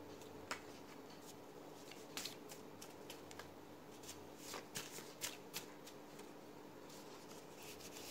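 Tarot cards being shuffled for a reading, a soft, close riffling and brushing of cardstock with a few sharper slaps and flicks over a faint steady background hum.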